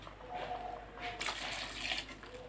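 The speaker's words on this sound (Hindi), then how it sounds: "मैं पानी शामिल कर रही हूँ," Water pours into a pot of liver and tinda curry, a quiet steady splashing stream that swells into a brighter rush toward the end, with no talking.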